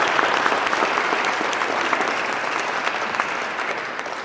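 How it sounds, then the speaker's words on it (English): Warm applause from an audience at a university chamber choir Christmas concert, a thick continuous clatter of clapping hands that slowly tapers near the end. "I'd like to just give him another round of applause"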